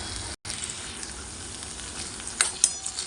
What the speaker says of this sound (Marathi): आपला कांदा छान असं परतला गेलेला आहे